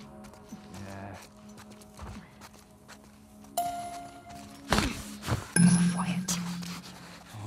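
Horse hooves clip-clopping in the video game The Last of Us Part II, a steady walking rhythm of hoof taps with game ambience, a brief whinny-like tone and occasional chimes, under quiet voices.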